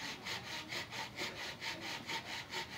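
A wooden bow drill spindle rubs rhythmically in a fireboard notch, a steady back-and-forth rasping with about a dozen regular strokes, close and alone with no talk.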